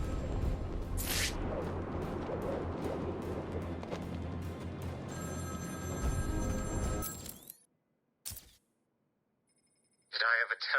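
Telephone ringing in the video game Batman: Arkham City, a few bright repeated rings heard over busy game music and effects, with the scene then dropping to near silence before short electronic tones.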